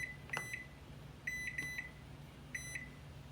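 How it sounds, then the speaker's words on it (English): A kitchen timer beeps in short, clear, high-pitched bursts, several quick pairs and singles, while it is set for boiling eggs, with a faint steady hum underneath. "now we're going to set a timer for 13 minutes."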